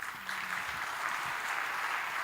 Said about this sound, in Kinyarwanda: Dukomere Imana yacu amashyi.